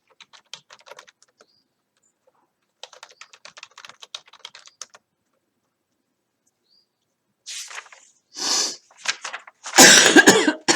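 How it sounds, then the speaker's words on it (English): A person coughs several times in a row, loud and close, after stretches of light keyboard typing in an otherwise quiet room. "I'm so sorry that I keep coughing."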